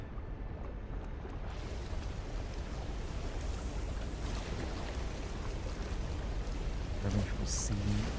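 Heavy rain and rolling thunder from a storm at sea in No Man's Sky fill the scene as a dense, steady roar, with a brief brighter burst near the end.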